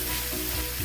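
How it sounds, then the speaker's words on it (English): Ground beef being stirred and mixed in a hot pan while cooking stuffed Mexican shells: a loud, steady frying sizzle with light scraping, brief and continuous, no voice. "So I'm just mixing the beef"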